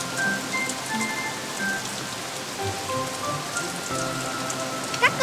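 Rain falls steadily in a children's cartoon, a dense continuous patter of drops on surfaces with faint tones underneath and no voices.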